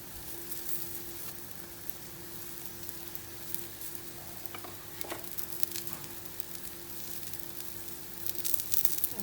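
Aloo paratha fries in ghee on a pan, giving a soft, steady sizzle with a faint constant hum beneath and a few light scrapes and taps near the end, quiet and close with no talking.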